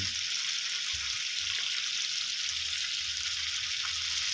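Chicken mid wings marinated in fish sauce fry in hot oil, giving a steady, even sizzle that continues throughout at moderate loudness with no talk over it.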